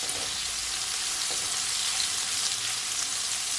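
Shrimp for garlic shrimp noodles fry in a hot pan, a steady dense sizzle that holds loud and even throughout with faint occasional stirring clicks.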